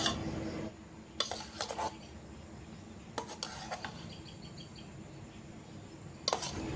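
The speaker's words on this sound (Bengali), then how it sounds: "এবারে এই হলুদ অংশটা এর মধ্যে দিয়ে আমি আরো কিছু সময় ফেটিয়ে নিব" Egg for a sponge cake is whisked in a bowl in short bursts of clinking, scraping strokes, separated by quieter gaps under a steady high whine, close and moderately loud.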